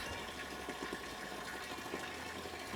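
A pump shifts water out of a boat, giving a continuous gushing, churning wash with a low mechanical undertone, steady and fairly close throughout, with no voices.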